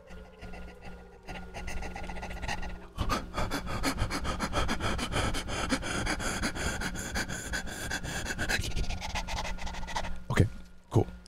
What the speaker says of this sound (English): Don't mind my breathing. It's totally normal.